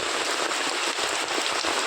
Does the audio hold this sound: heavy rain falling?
yes